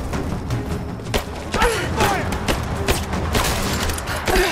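Gunfire in the video game Rise of the Tomb Raider during a base assault: sharp repeated shots and thuds crackle over a dense, busy game mix, with someone talking excitedly over the action.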